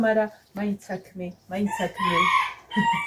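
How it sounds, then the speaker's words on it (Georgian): A rooster in a village crows close by, the strained call breaking through amid bursts of a person talking nearby. "არ მინდა რომ მამალი ყივის, მაგრამ ყივის."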